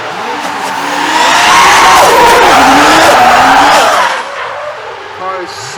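A drift car skids through a run at Cadwell Park, its tires squealing loudly with sweeping, wavering pitch over a roaring engine for about four seconds before easing off, while a commentator's voice sits faintly underneath.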